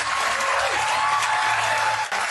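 Dense, steady crowd applause fills the space from start to finish, loud and continuous with no talking over it, plus a faint steady tone and a brief dip near the end.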